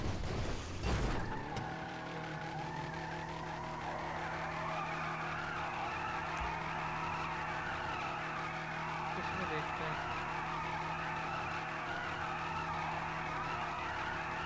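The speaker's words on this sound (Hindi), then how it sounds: "टायर फट ना जाए तब तक चलाते ही रहेंगे इसको, धुआं उड़ाएगा फटेगा ये टायर" A car in GTA 5 doing a tire burnout, a sustained loud skidding screech over a steady engine roar after a brief thump at the start.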